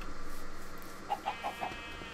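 Minecraft chickens cluck in four short, evenly spaced calls over a soft background hum, faint and close together.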